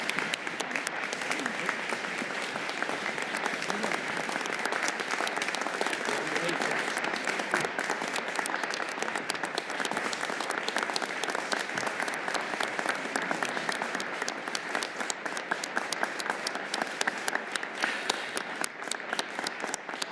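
Sustained, dense applause from a large audience welcoming the new president at a community college inauguration ceremony, steady and loud throughout without letting up.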